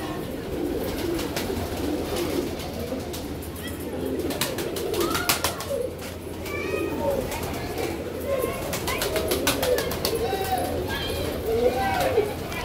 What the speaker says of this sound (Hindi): ये देखिएगा आप कबूतर